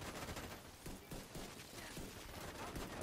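Blind-fire gunfire in a looter-shooter arena fight, a quick run of rapid muffled shots with short pauses, fairly quiet and without speech.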